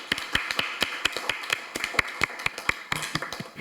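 Sparse, fairly even clapping from a small audience at a Korean National Assembly panel debate, with distinct sharp claps arriving a few per second over a quiet room.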